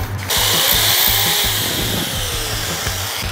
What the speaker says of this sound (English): now we'll attach a 1/8 inch drill bit into our drill and we will drill